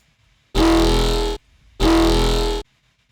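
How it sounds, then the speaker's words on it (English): Two long, harsh bursts of a heavily distorted synthesized tone, each lasting about a second with a short gap of near silence between them, loud and alone. "So with distortion in the incremental approach, I definitely think less is more."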